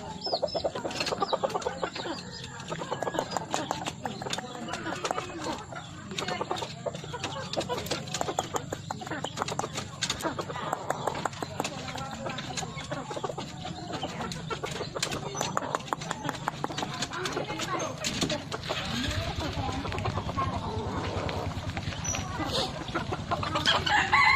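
Young junglefowl about ten months old cluck repeatedly amid busy outdoor noise, with some crowing and scattered clattering sounds throughout a long stretch.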